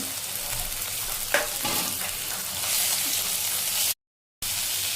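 Boiled, squeezed safflower greens fry in a pan with onion and crushed green chili, giving a close, steady sizzle with scraping stirs, interrupted by one short gap of silence near the end.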